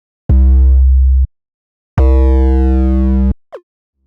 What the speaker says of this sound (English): So with the mechanical distortion, it sounds like that.